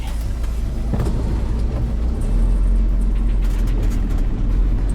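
A car pulls away on roads wet from overnight rain, its engine rumble swelling into a steady, loud low drone with no voices over it.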